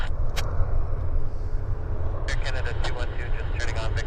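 An airliner departs from the south side runway at Vancouver Airport, a low, distant engine rumble spreading under nearby voices and some sharp clicks.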